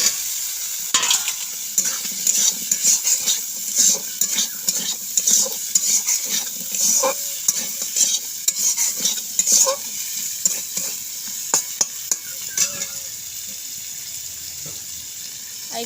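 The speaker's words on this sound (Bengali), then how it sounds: "এবার ডাঁটা আলু দিয়ে দেবো।" Drumstick stems and potatoes tumble into a hot pan for a thin fish curry, setting off a sizzle with rapid clattering stirs and utensil scrapes against the pan, easing to a quieter fry at the end.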